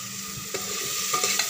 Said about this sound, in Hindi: अब मैं इसमें प्याज का पेस्ट डाल रही हूँ